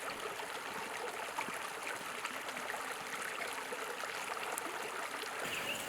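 Frijoles Creek, a small stream, flowing steadily with a soft, continuous trickle and burble at close to moderate distance, no voices.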